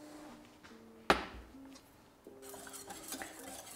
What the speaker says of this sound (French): On va remuer constamment